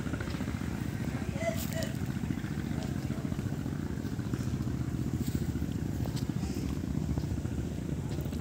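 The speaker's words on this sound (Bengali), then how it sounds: "ট্রলার যাইতেছে।" A trawler on the Padma river chugs along with a steady, rapid engine putter, fairly close and continuous, while a person talks over it.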